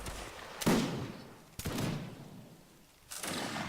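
Musket volleys in the Napoleonic Wars module of Mount and Blade: three sharp, loud massed gunfire bursts spaced about a second and a half apart, each trailing off into a rolling, crackling echo.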